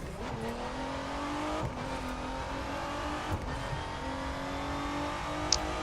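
A car engine revs hard in the racing video game The Crew 2, rising and falling continuously as it accelerates, loud and alone with no talk.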